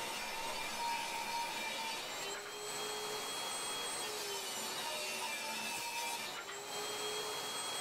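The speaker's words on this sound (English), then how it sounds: "Next, I'm going to cut each board to 3 inches wide." A saw cuts pallet wood boards to width, giving a steady whining buzz that runs continuously with brief dips between passes, heard fairly faintly with no talk.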